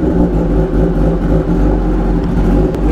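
Motorcycle with an aftermarket full system exhaust running loud and close, a deep throbbing drone with steady low rumble and slight rises in pitch, no voices over it.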